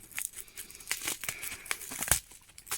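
A herb sachet packet being torn open by hand, with crinkly plastic rips and rustles coming in short bursts, close and fairly quiet with no voices.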